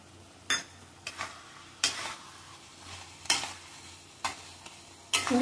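White onion sabzi cooks in a pan, a soft sizzle underneath several distinct, evenly spaced stirring scrapes and utensil knocks, close by and moderately loud.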